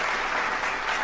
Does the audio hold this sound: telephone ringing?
no